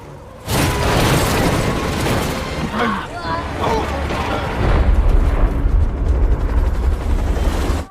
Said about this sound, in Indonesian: terpaksa menabrakkan mobilnya sampai meledak